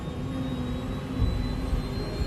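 Jet airliner engines roar steadily during the takeoff roll, a loud, dense, unbroken rumble with a faint high whine running through it.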